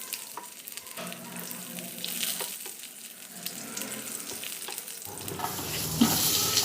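Crushed garlic with skins on sizzles softly in a pan, broken by scraping stirs, with the frying growing louder and denser toward the end.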